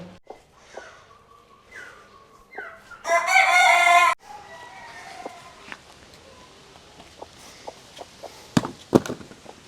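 Hens cluck in short bursts, then a rooster crows loudly nearby for about a second, followed by scattered clucks and knocks.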